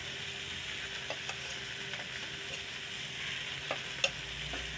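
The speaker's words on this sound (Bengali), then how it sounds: "এবার চাল মগজ বাটাটা দিয়ে দেব।" Melon seed paste frying in a pan, giving a steady close hiss of sizzling with a few faint scrapes and one sharper tap near the end, and no voices.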